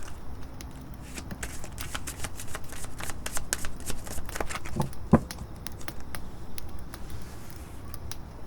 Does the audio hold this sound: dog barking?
no